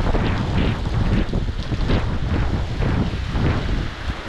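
Strong gusting wind from a typhoon roars and buffets the microphone continuously, with a dense rushing wash like driving rain underneath.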